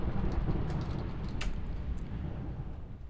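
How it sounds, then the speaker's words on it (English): Heavy rain pours steadily in a Minecraft game, with a low rumble of thunder underneath and a few faint crackles, continuous and fairly loud with no talking. "it's fucking thundering again"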